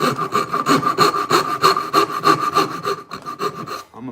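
Hand saw cutting through wood in a home workshop, a steady rhythm of about a dozen rasping push-pull strokes, close and loud, slowing and trailing off near the end.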